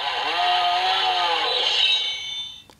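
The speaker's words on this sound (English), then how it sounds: "a mix of like sword clashing sounds and a chainsaw sound together. So like the chainsaw's revving up." Power Rangers Ninja Master Blade toy playing its electronic chainsaw revving sound effect, a loud buzzy whine that rises and wavers for a couple of seconds before cutting off with a click.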